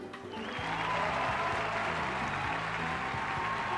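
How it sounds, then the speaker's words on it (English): Audience applause at the Miss Universe 2000 pageant, a broad sustained wash of clapping that swells in and holds steady, with stage music playing underneath throughout. "Okay, now you can clap."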